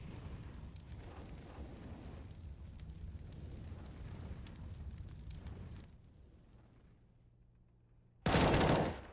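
Gunfire rattles through a Counter-Strike match between Red Reserve and PRIDE, a dense stretch of shots and game noise that thins out and then ends in one loud close burst.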